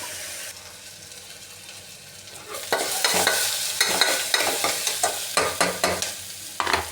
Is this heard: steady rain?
no